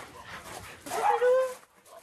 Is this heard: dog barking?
yes